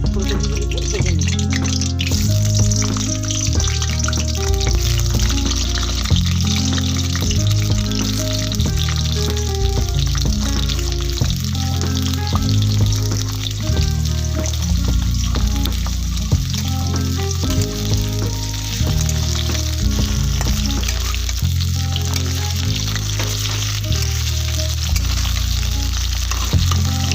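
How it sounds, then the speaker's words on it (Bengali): Cauliflower pieces frying in hot oil for a Bengali dish, a loud, continuous close-up sizzle and crackle with occasional spatters and stirring clinks, steady throughout. "তেল গরম হয়ে গেছে, এখন আমি ফুলকপি দিয়ে ফুলকপিগুলিকে ভেজে নিব।"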